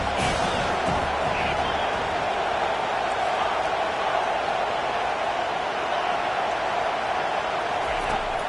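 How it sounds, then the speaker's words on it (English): A football stadium crowd roaring to back its defense during a red zone stand, a steady, dense wall of noise that holds at full volume with no break. "And here comes the noise. This crowd is trying to inspire this defense to make a big red zone stop."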